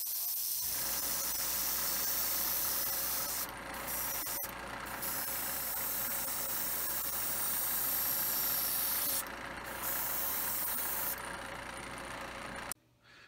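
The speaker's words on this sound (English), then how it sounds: "We'll be airbrushing a gunmetal color for the phasers and a yellow-green for the thrusters." An airbrush sprays gunmetal and yellow-green paint onto a retro starship model kit, giving a steady, soft hiss that runs for many seconds with a few brief pauses between passes.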